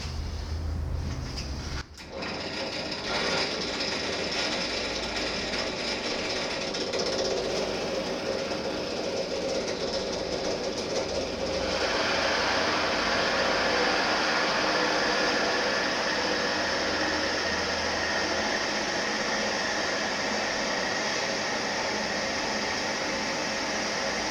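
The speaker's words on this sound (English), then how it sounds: "we're going to get our drill press and we're going to use a hole saw to cut this out" A drill press fitted with a hole saw cuts through a resin and wood blank, giving a steady, loud motor whine and grinding hiss close by, which grows harsher and rougher partway through as the saw bites deeper.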